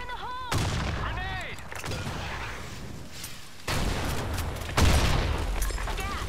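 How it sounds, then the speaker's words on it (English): Gunfire and a grenade blast in the shooter video game Blackshot, sharp bursts of shots followed by heavy booming impacts with rumbling tails, plus a brief rising synthetic tone at the start. "Fire in the hole! Fire in the hole!"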